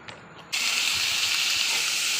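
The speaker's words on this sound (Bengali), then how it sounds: "পেঁয়াজ আর কাঁচা লঙ্কা তেলে দিয়ে একটু হালকা করে ভেজে নেব" Onion and green chilli hit hot oil for a vegetable Maggi, bursting into a loud, steady frying hiss that starts abruptly and holds evenly, close up and alone.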